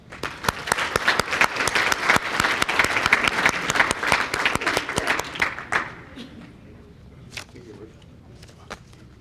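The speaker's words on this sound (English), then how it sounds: "Let's have a round of applause" A crowd at a housing organization's 40th anniversary celebration applauds elected officials with dense, loud clapping for about six seconds, then it thins out to a few scattered claps and quiet room noise.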